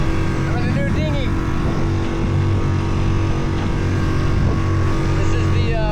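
An outboard engine drives a West Marine RIB 260 dinghy across choppy water, a loud, close, steady motor drone mixed with splashing and wind, while someone talks over it.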